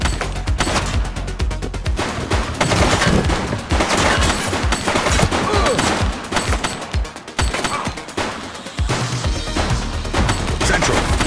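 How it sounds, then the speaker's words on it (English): Gunfire in the video game The Precinct, a dense, loud barrage of rapid machine-gun bursts and single shots that continues almost without pause. "He's shooting!"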